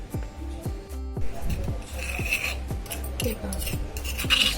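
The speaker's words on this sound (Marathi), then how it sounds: "हे आपण खलबत्त्यामध्ये चेचून घेऊया" Repeated pounding thuds at a steady rhythm, a pestle crushing chilies and garlic in a mortar, close up with scraping and grinding between strikes.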